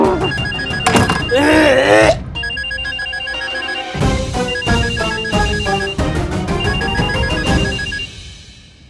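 A telephone rings repeatedly in a looping electronic tone, loud and close, with a brief burst of music at the start.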